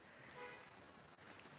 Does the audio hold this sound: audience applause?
no